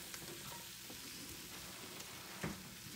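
Onions and ground beef fry in a pan for taco pie with a steady, even sizzle throughout, and a brief scrape or stir near the end.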